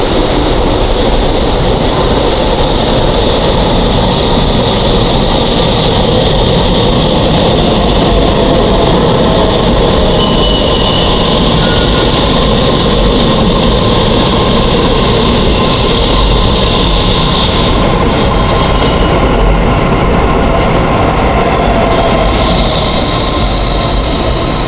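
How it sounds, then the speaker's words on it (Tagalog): A train arrives at a station with a loud, steady rumble and rattle of wheels on rails that fills the whole stretch, with a high whine over it and no talking. "Yan na yung ating train po mga katropa."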